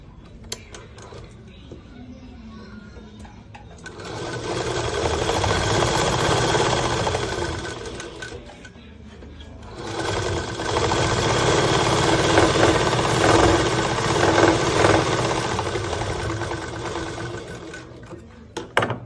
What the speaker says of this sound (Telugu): దీన్ని ఒక పొర మడిచి కుట్టుకోవాలి.